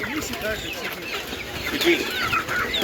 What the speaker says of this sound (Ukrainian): Це курочки такі ще є на ринку.